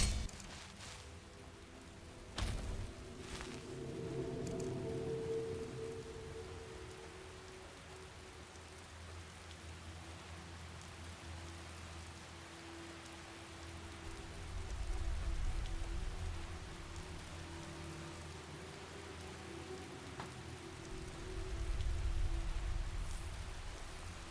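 Steady rain pattering in a modded Skyrim Special Edition game world, a continuous soft hiss with low rumbling swells that rise and fall, heard alone without voices.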